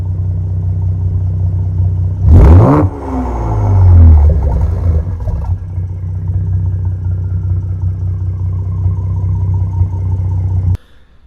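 A stock-motor Ford Explorer ST fitted with an axle-back exhaust revs sharply around the two-second mark, with the deep exhaust note swelling and falling over a steady low idle rumble before cutting off near the end.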